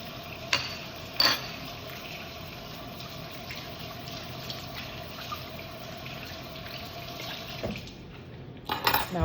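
Hands rinsing something under a running kitchen tap while cooking, a steady quiet stream of water with a few brief clinks and splashes near the start and end, no one speaking.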